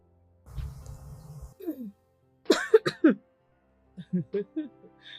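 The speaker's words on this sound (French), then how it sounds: "Pourquoi je tousse beaucoup?" Several coughs in quick succession, close and fairly loud, with short breathy pauses between bursts and a quiet room around them.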